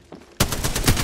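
A quiet moment broken by an abrupt burst of rapid automatic video game gunfire, evenly spaced loud shots continuing to the end.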